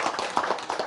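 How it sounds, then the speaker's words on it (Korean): An audience at a Buddhist Pure Land dharma talk at Geonbongsa temple claps briefly, a short burst of scattered hand claps at moderate volume. "좀 더 박수 한번 쳐주셔야죠"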